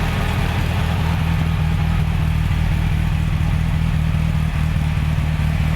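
An MGA car engine idling close by, recorded at the rear exhaust, a steady low rumble with a constant hum and faint clatter, unchanging throughout with no voices.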